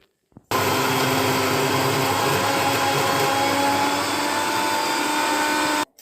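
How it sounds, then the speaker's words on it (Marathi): A mixer grinder whirs loudly and steadily as it grinds garlic and cumin without water, a dense motor drone that starts abruptly and cuts off after about five seconds. "मी मिक्सरला मस्त बारीक फिरवून घेऊ"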